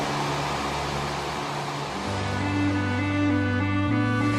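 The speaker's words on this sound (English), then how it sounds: "you'll hear the whir of the compressors" Air conditioner compressors give off a steady, loud whir with a droning hum whose pitch shifts slightly, continuous throughout with no gaps.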